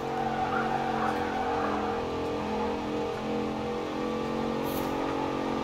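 A 2014 Jeep Grand Cherokee drifting downhill in Forza Horizon 4, its engine humming steadily while tires scrub through a sliding flick, with a faint high squeal near the end.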